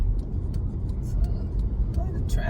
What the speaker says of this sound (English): a lot of traffic out here.